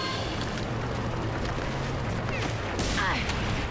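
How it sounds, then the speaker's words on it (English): An anti-materiel sniper rifle fires in the Mercenaries 2 video game: a sharp shot cracks out near the end over a busy background of game noise and vehicle sounds, with talking heard through it. "an anti-material rifle, which is kind of a really amped up sniper rifle"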